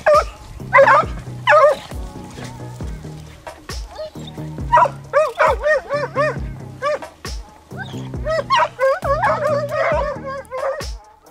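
A pack of Italian hounds bays while trailing a hare, with loud, repeated yelping and baying calls overlapping in bursts, some near and some farther off, with a voice talking underneath.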